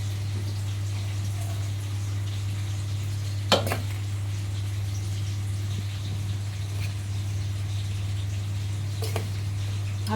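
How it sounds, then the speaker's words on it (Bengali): Fried rice being stirred in a pan in a simple Bengali-style home kitchen: a steady low sizzle with soft scraping, broken by two sharp utensil clinks against the pan, close and continuous. "একটু নেড়ে দিচ্ছি, সব কিছু মিক্সড করার জন্য একটু"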